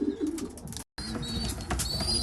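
Racing pigeons coo softly in a loft while young birds feed on corn, with low throaty coos and light chirps over rustling, shuffling activity, briefly cut to silence midway.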